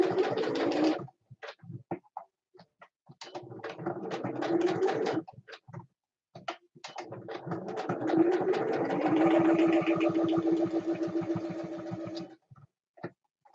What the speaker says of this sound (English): I'm going to go ahead and I'm going to stitch around these real quick.